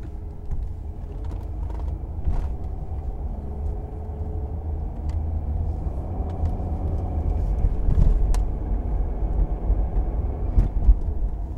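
A 2009 Mercedes E320 Bluetec diesel sedan with 108,000 miles, suspected of boost problems, drives a back road from the shop. Its steady low engine and road rumble is heard from inside the cabin, with faint clicks and knocks and no talking.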